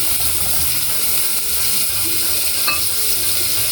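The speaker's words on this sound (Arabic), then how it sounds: "نقلب كده لغايه الجمبري كده ما ياخد لون محمر شويه" Shrimp stirred and frying in a pan with onion, a steady loud hissing sizzle with faint scraping and clicks of the utensil.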